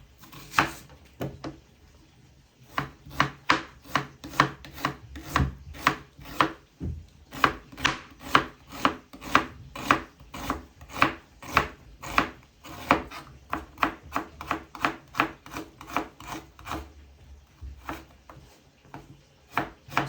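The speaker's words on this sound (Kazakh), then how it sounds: "Енді жуамызды майда етіп тураймыз." A knife finely chops onion on a cutting board, dozens of quick, even taps in steady bursts with brief pauses, close and clear.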